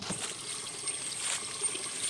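Water from a small stream running beside a paddy field makes a faint, continuous trickling hiss, with soft irregular splashes and no voices.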